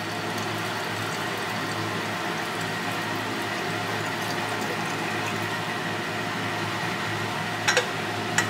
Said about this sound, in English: right now I'm going to pour it off into this waste container